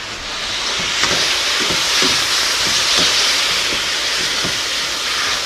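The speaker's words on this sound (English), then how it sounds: "add a little bit of our wine and vinegar mix, just enough to kind of deglaze that pan a little bit" A pan of collard greens is deglazed with a wine and vinegar mix, giving a loud, continuous steamy hiss and sizzle broken by small crackling pops, with no talking.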